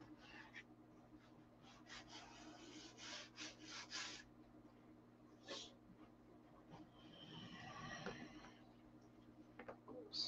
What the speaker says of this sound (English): I want you to see how easy this stuff sands.